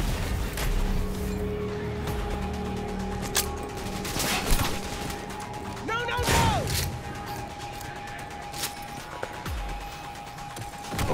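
Bursts of gunfire in the futuristic shooter Cyberpunk 2077, sharp cracks and volleys layered over game effects and a steady background hum, with a few louder impacts scattered through the stretch.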